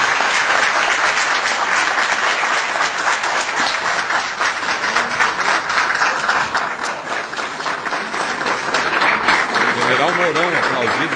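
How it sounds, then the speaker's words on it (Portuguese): Sustained applause from an audience of businesspeople at a CDL lecture in Uruguaiana for General Hamilton Mourão, dense and steady throughout with some voices mixed in. "General Mourão, aplaudido."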